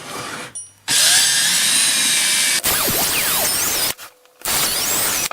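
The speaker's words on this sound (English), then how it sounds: "All I do now is drill these holes and test it." A power drill whines loudly in close bursts while drilling holes in a kitchen cabinet door, running steadily, then changing pitch as it bites, stopping briefly and starting again.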